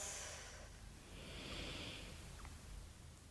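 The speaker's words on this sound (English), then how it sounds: "3 more breaths." Slow, deep breathing in a yoga session for foot and leg pain relief, a long steady breath held through a soft noisy background, close and fairly quiet.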